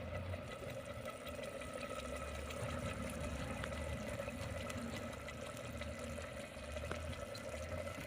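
Water from grinding the masala is poured into ground masala paste frying in a pan, giving a steady, low rushing hiss that lasts throughout, faint and even, with no voices.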